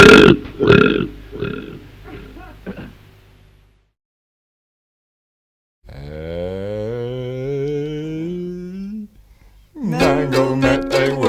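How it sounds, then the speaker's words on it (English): A long, loud, drawn-out burp with a falling, croaky pitch, preceded by short bursts of voice and a brief silence, then followed by more speech. "He burped."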